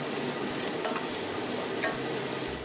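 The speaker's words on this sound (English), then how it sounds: "So keep frying the green capsicum or the green pepper and the onions until they are soft." Green pepper, onions and spices such as cinnamon sticks, cardamom pods, ginger and garlic fry in a pan with a steady, close sizzle and occasional stirring scrapes, with no talking.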